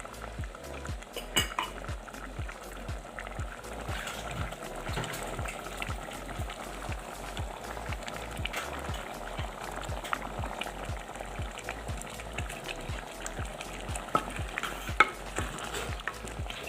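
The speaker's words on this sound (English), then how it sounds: "So at this point, I'm going to add in my smoked fish." Smoked fish going into a simmering vegetable-egg soup in a pot, with quiet steady bubbling and a string of light utensil taps and scrapes against the pot, close and soft.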